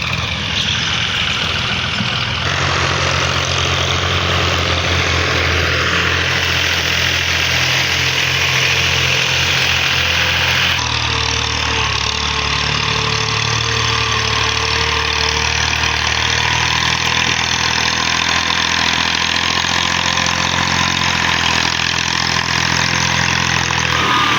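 A stuck tractor's engine runs steadily and loudly throughout, a deep continuous rumble with vibration and no pauses.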